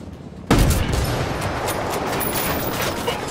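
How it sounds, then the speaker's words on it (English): Gunfire in the video game Ghost Recon Wildlands bursts in after a half-second of quieter ambience, then carries on as a loud, dense, continuous volley of shots with scattered sharper cracks and no talk. "Opening fire."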